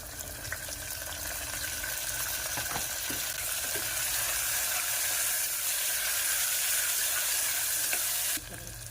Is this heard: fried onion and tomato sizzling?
yes